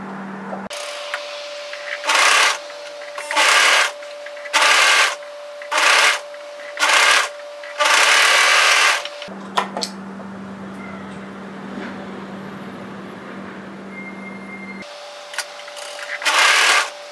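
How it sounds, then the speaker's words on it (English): An overlocker tidies the seams on a lounge top, running in a series of rapid, fairly loud whirring bursts with brief pauses between them, then a quieter hum before a final run. "go to the overlocker and tidy those seams"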